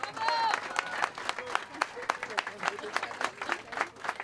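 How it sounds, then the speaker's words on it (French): An audience claps for amateur contestants at a trompe-l'oeil cake competition, a scattered, moderate round of applause with individual claps audible, mixed with some background voices. "on peut les applaudir encore une fois"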